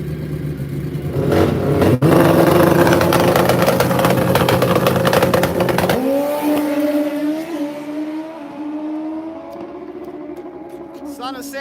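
Drag bikes racing at a motorcycle drag race at Rockingham Dragway, a loud sustained roaring engine blast that cuts off and drops to a falling whine as the bikes pass and fade.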